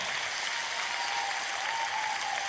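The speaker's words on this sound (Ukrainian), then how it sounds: "Давайте поплескаємо українським музикантам, які роблять просто неймовірні речі." Dense, continuous audience applause at a Ukrainian music award ceremony, honoring Ukrainian musicians, steady and fairly loud throughout without pauses.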